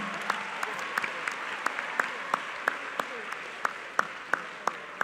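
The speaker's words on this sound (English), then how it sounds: "Please give a great round of applause to this fabulous," A small group claps steadily for finalists at a science competition grand final, sharp individual claps standing out at an even pace, with no voices over it.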